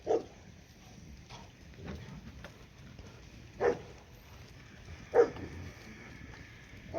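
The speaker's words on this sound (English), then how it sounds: "Once they're all in, she'll stop barking." On a farm, a dog barks at goats being brought in: three or four faint, distant barks spaced a few seconds apart over a quiet outdoor background.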